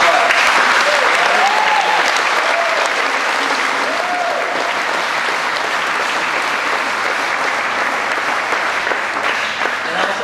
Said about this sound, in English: So if we could give them one huge round of applause